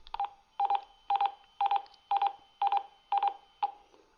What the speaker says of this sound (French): La petite note de musique permet d'envoyer des sonneries